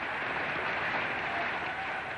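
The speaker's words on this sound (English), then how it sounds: "Why did people keep applauding Rákosi, knowing what he said was untrue?" A large crowd applauds Rákosi in old archival footage from communist Hungary, a dense, steady roar of clapping that carries on unbroken.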